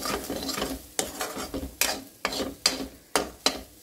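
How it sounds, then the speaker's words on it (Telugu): Grated coconut is roasted in a pan while a spatula scrapes and stirs it in a series of sharp strokes. The strokes come faster and more regular toward the end, over a faint sizzle, with no speech. "ఇక్కడ కొబ్బరి వేయిస్తున్నాం"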